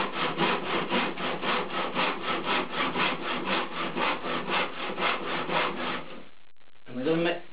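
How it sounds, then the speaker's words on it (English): A hand saw cuts the tenon shoulder of a wooden window frame in steady, rhythmic back-and-forth strokes, loud and close for about six seconds before stopping, followed by a brief scrape. "we'll just run this saw and we're just cutting the shoulder"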